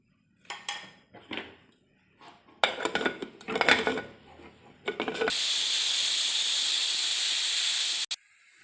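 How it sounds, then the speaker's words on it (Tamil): Clattering kitchen noises and clinks, then a loud, sustained high-pitched hiss of steam from a pressure cooker whistle, cooking citron pickle, lasting about three seconds before cutting off. "இப்போ 3 விசில் வந்துருச்சு."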